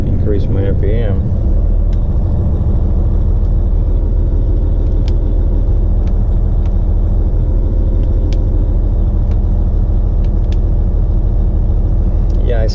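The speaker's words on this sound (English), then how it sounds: "let me just increase my RPM." A heavy haul truck's diesel engine idles loud and close at a truck stop, its RPM raised to a steady, deep rumbling drone that holds throughout, with a brief voice at the start.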